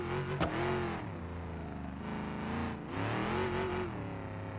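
Knockoff Batmobile from BeamNG, a loud steady engine that revs continuously, rising and falling in pitch twice with a brief lift-off between, no talk over it.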